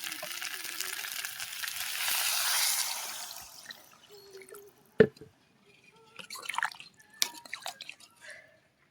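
Water splashes and drips into a pan of curry with fried potatoes and drumstick pods, a broad rushing pour first, then a sharp clink and scattered trickles and drips.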